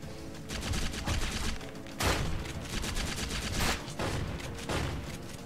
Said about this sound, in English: He's actually shooting me through the fucking wall!